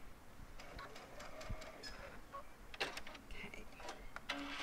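Sewing machine stitching binding onto Cuddle Minky fabric, producing a few short bursts of mechanical rattling that come close and fairly soft, with brief gaps between runs of stitches.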